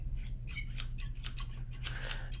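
Scissors snip open the packaging of a Pokemon TCG collector's binder box, a quick run of four or five crisp close cuts in rapid succession, heard alone in a quiet room.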